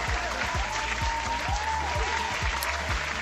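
Applause sound effect played on a VR gameplay stream, a steady wash of clapping from a crowd lasting throughout, fairly loud, with low rhythmic thumps from background music underneath.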